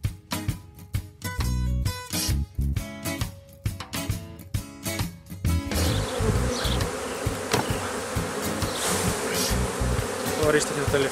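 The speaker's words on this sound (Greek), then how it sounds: "όλη αυτή η μέλισσα δεν έχει που να πάει" Honeybees buzz densely and loudly around hive frames during a honey harvest, a close, constant swarm drone with knocking clunks of frames early on.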